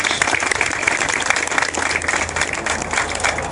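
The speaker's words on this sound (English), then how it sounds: "Let's give everybody a round of applause." A crowd at an awards ceremony applauds steadily, dense clapping filling the whole stretch at fairly close range with a few faint voices mixed in.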